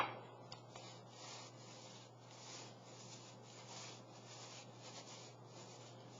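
Palms rubbing on the outside of a bottle that holds ice, a soft continuous rasping swish that stays steady and faint over a low constant hum, with no talking.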